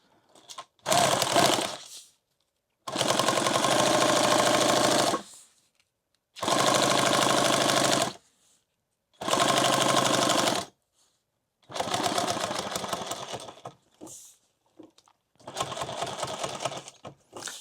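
A sewing machine stitches a leather pouch in six bursts of rapid, even mechanical chatter, each lasting one to three seconds and separated by short pauses, heard close and clear.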